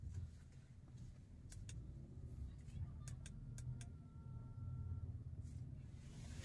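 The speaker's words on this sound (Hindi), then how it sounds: "गाड़ी पीछे ले रहे" A car being reversed amid a busy street outside a restaurant, its low engine rumble steady and close under traffic noise, with a few brief clicks and a faint high beep partway through.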